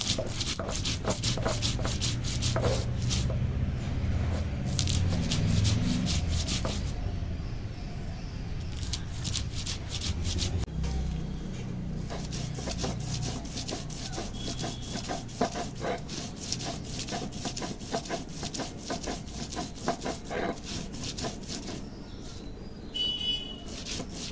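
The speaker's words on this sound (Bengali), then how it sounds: "দুরকম সর্ষে পোস্ত কাঁচা লঙ্কা একসঙ্গে বেটে নেবো" Mustard seeds of two kinds, poppy seeds and green chillies being ground together on a flat grinding stone, a steady rubbing and scraping with rhythmic strokes, close and continuous throughout.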